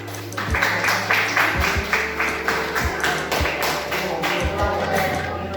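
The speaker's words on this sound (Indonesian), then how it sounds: "Oke, tepuk tangan terlebih dahulu buat nomor 1, 3, dan 4" Students in a classroom applaud together, a dense, loud, continuous patter of many hands with periodic heavier thumps, nearby and filling the room.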